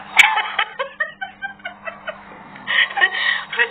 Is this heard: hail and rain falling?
no